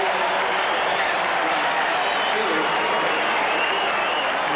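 A 1997 NFL stadium crowd in New Orleans cheers and applauds continuously as a loud, dense wash of noise, with a commentator talking over it throughout.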